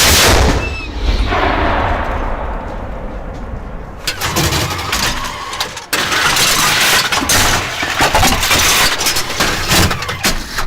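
A loud tank main gun blast booms and cracks, followed by heavy rumbling engine noise and mechanical clatter that continues throughout.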